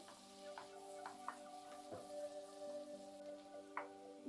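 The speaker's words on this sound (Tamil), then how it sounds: "இந்த பட்டரும் இந்த பூண்டும் போடும்போது நல்ல ஒரு வாசனை வரும் கொஞ்சம் நேரம் ரெண்டு நிமிஷம் நல்லா வதக்கி விட்டுக்கோங்க" Garlic cooking in butter in a frying pan gives a steady, close sizzle with a few brief stirring clicks and scrapes, and no voices.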